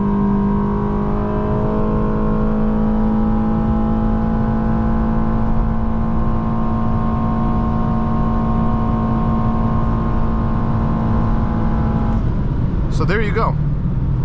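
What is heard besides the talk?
2016 Honda Accord Sport 2.4 accelerating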